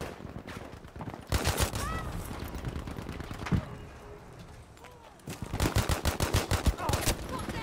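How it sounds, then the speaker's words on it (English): Pistol gunfire in Battlefield 5 on the Mercury map, quick bursts of sharp shots in rapid clusters, with a pause in the middle and a second dense volley near the end. "How fucking weak is this pistol?"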